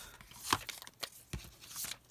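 Cardstock pieces for a handmade card are cut with a few crisp snips and papery rustles, close and quiet, each cut short and separate.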